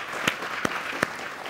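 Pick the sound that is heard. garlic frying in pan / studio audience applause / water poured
studio audience applause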